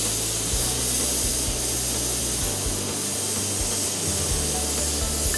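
An automotive spray gun sprays paint during a blending job on a car, producing a loud, steady, continuous hiss with no talking and a low mechanical hum underneath.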